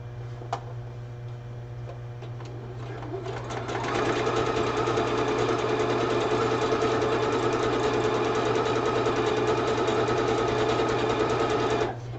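Sewing machine running a zigzag stitch on a headdress, starting with a few faint ticks and light handling, then settling into a steady, fast mechanical whir with rhythmic needle clatter that continues to the end.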